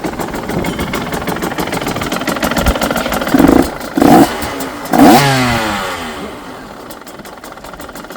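A 2024 KTM 150XCW two-stroke dirt bike engine idles close by, its steady buzzing putter rising in three short revs near the middle before settling back to a quieter idle.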